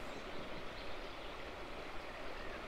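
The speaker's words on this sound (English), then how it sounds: "the sound of the bubbling river" Steady rushing and bubbling of a river flowing nearby, a continuous even wash of water sound with no breaks, set outdoors in nature among wildlife, with no voices.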